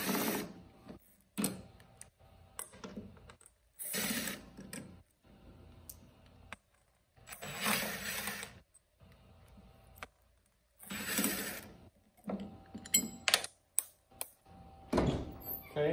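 Screws being undone on the priming plate of a Black Hole machine, intermittent bursts of metallic clicking and ratcheting separated by quiet gaps, close and fairly soft.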